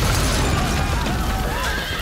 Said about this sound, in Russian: Прекратите панику! Держите лошадей!